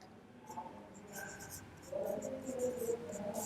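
Pen scratching across paper while notes are written, faint and close, a few soft strokes and scribbles under a quiet voice.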